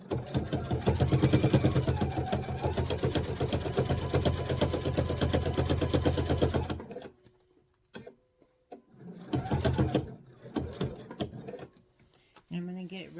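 A sewing machine runs in one steady, loud burst while stitching a travel pouch, then stops, followed by a few short starts and stops between pauses and a brief voice.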